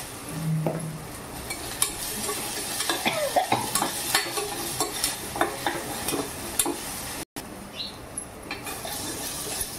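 Brinjal and squash sabzi roasting in a pan while being stirred, a soft continuous sizzle with frequent scraping and spoon clinks up close, heard alone.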